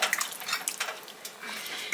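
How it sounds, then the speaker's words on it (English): Noodles stirred in a pot of creamy sauce, giving soft wet scraping and clinks of a utensil against the pot, alone and fairly close. "toss in our noodles. Give this a stir and we'll be ready to eat."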